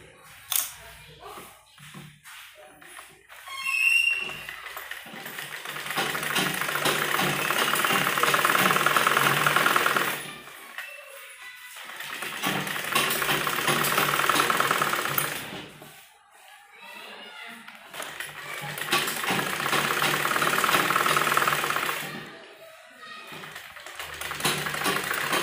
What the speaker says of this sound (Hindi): सबसे पहले यहाँ सिलाई लगाएंगे इस पर, और फिर इसको इस तरह से सीधी तरफ फोल्ड करके सिलाई लगाएंगे।